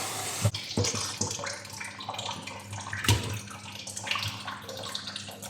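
Running water splashes and gurgles from a tap while meat for shawarma is rinsed and handled, with a couple of sharp knocks near the start and middle.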